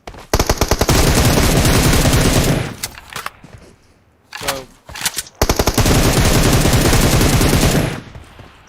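Automatic gunfire in the PUBG Mobile game, long rapid bursts of loud close shots broken by a pause with a few scattered single shots before another sustained burst.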